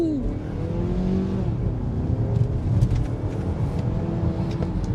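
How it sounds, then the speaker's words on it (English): A 2023 Mazda CX-50 AWD with SkyActiv-G engine in sport mode accelerating hard from a traffic light, engine revving up through gears with a rising drone, tires rumbling, close and loud. "we're going to do our traffic light Grand Prix acceleration test"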